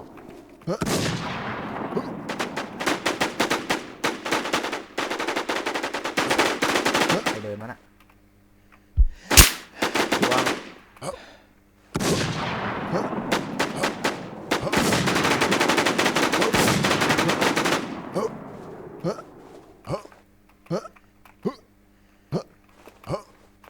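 Heavy automatic machine-gun fire in the online PVP shooter Warz, with long loud sustained bursts broken by gaps, single shots and a string of separate trailing shots toward the end.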